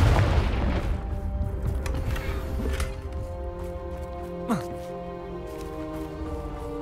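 In Hogwarts Legacy, the Confringo fire spell bursts with a loud, deep boom at the start, then a rumbling decay that lingers under game ambience, with a voice over the sound.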